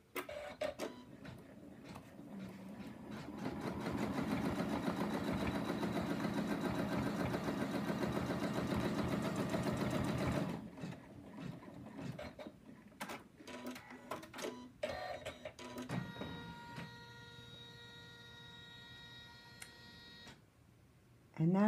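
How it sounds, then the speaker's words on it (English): An embroidery machine stitches out a large center line on a hooped lamb design, giving a steady rapid mechanical chatter that stops after about ten seconds, followed by softer clicks and tones. "we're going to put the hoop back in the machine. Next, it's going to stitch out the center line, which are going to be quite big stitches"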